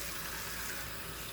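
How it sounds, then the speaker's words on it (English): Water pours steadily into a ramen bowl for microwave teriyaki ramen, a brief continuous splashing hiss, close and fairly quiet. "you don't want to pour the water so that there's a ton of it in the bowl"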